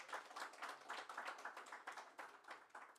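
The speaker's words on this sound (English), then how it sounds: "Can we give them a round of applause?" A conference audience applauds a guest seated with his family: dense, continuous clapping from many hands, rhythmic and fairly close, sustained for several seconds with no talking over it.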